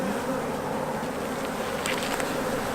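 Honey bees swarm around an open, honey-heavy beehive during hive maintenance, giving a steady, close buzzing drone with occasional louder passes near the microphone and no voices.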